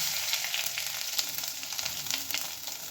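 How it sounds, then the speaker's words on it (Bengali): Cumin seeds and bay leaf hit hot oil left from frying fish for a snakehead curry, giving a lively close-up sizzle with scattered sharp crackles and pops throughout. "এবার আমি ফোড়নে দিয়ে দেবো জিরে আর দিয়ে দিলাম তেজপাতা"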